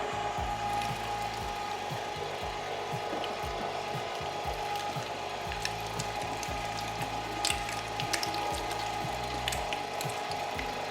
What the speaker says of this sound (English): I'm using a 10mm die to grind up this meat